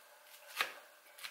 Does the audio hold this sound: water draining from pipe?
no